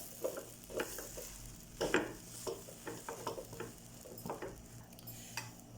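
A rava masala mixture is stirred and mixed in a pan with repeated scraping strokes in an uneven rhythm, close up, with a light sizzle running underneath.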